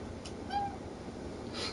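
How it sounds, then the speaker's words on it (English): Mochi, a pet cat, gives one short soft meow in a quiet room during a Red Dead Redemption II couch stream. "We've got a cat joining the stream."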